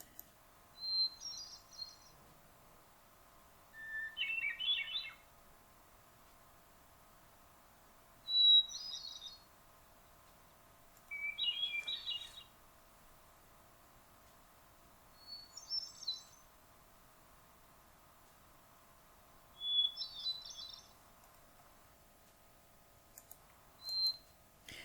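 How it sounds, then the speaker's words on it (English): A hermit thrush sings clear, flute-like phrases every few seconds, each starting on a held note and shifting pitch between phrases, heard in a quiet outdoor setting. "So this is a hermit thrush"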